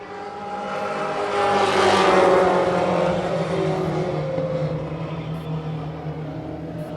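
Stock cars racing at Wiscasset Speedway roar past in a loud, sustained engine drone that swells and fades as the pack goes by, with no talk over it.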